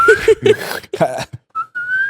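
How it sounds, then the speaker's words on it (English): Someone whistles a few short, breathy notes drawn in on the breath, broken by pauses, then ends on a longer sustained tone. "You definitely aren't whistling right."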